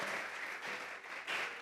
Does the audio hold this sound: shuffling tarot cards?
no